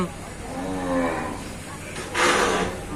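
Cattle at a rural livestock market low with long, drawn-out moos, one fairly close and strong, followed by a louder, brighter call, with faint market background around them.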